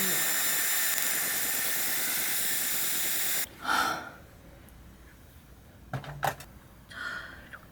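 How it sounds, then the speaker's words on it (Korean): A Dyson hair dryer set to maximum airflow blows with a loud, steady rushing roar for about three seconds, then cuts off, leaving soft breaths, a brief rustle and a few quiet knocks. "머리를 말릴 때는 바람 세기는 최대로 하고 온도는 중간으로 해놔요"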